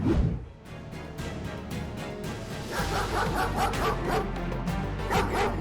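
A brave dog barks and yips in short repeated bursts during a street rescue, loud and close over a busy, noisy background.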